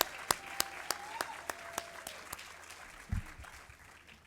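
Scattered, fairly quiet clapping from an audience after a community band performance at a memorial celebration, a few sharp claps in a steady rhythm thinning out, with a faint whistle-like tone in the middle.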